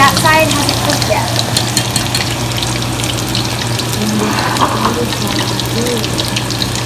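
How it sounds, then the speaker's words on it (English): Chicken frying in hot vegetable oil in a home kitchen, a dense continuous bubbling and sizzling crackle that stays steady and close throughout. "the chicken is literally shaking because of the bubbles"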